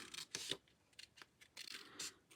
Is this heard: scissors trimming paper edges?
yes